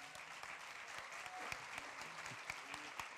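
Audience applause at a panel discussion, a brief burst of scattered clapping from a moderate-sized crowd, fairly faint and steady throughout with no talk.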